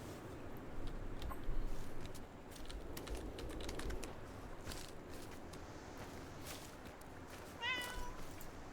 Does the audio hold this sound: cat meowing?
yes